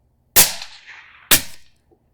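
Two supersonic .223 Remington rifle shots crack sharply about a second apart on an outdoor range, each loud and close with a short echoing tail, and nobody talks.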